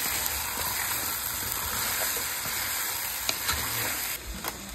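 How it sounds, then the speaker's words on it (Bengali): Chicken sautéing in a pot for yakhni pulao, a steady dense sizzle of frying with occasional stirring scrapes, close and fairly loud throughout with no voices. "একসাথে চিকেনও দিয়ে দিচ্ছে, খুব ভালো করে কষিয়ে নিচ্ছে"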